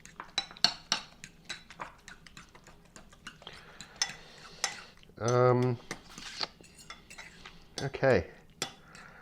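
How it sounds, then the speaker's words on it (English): A fork whisks vinegar dressing in a bowl for a chiffonade salad, giving light scattered clinks and taps of metal on the bowl, with a few louder bursts in between. "I'm just gonna use a fork to incorporate it."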